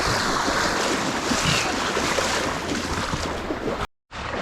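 Strong floodwater rushing around someone wading through a flooded billabong on a farm, a loud, dense, roaring wash with wind buffeting, cutting out abruptly near the end.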